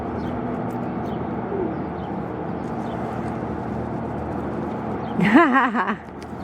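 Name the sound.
male pigeon cooing while courting a female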